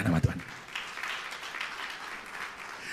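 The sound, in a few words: congregation applause in church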